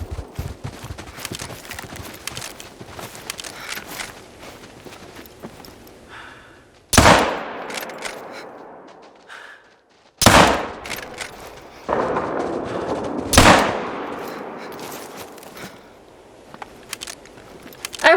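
Three heavy rifle shots crack out about three seconds apart in the hunting game TheHunter: Call of the Wild, each booming and echoing over a quieter outdoor background.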